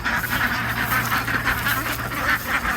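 Pasture-raised laying ducks quack continuously as they are released on a homestead in the early morning, a dense, overlapping chorus of many birds close by with a steady rhythmic pulse.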